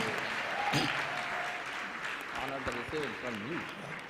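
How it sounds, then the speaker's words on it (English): Soft, distant applause from a church congregation, fading as a voice starts speaking over it. "give the Lord a clap for him"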